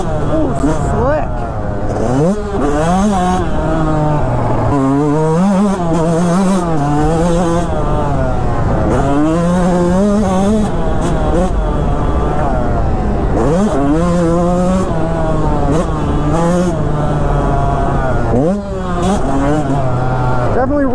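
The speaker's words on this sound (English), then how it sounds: "Definitely revs really nice and smooth." A Yamaha YZ125X two-stroke dirt bike engine revs loud and close throughout a ride, its pitch climbing and falling repeatedly with throttle and gear changes.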